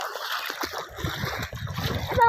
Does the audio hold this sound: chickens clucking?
no